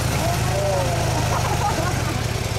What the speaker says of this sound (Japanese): はい、エンジン音取ります。